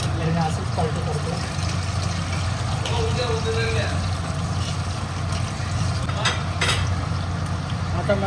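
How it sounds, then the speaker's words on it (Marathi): Prawns frying in a pan in Goa, turned over one by one. A steady, dense sizzle runs throughout, with a low constant hum beneath and a few brief clinks as pieces are flipped. "आता आपल्याला हे पलटी करून घ्यायचं आहे एक एक"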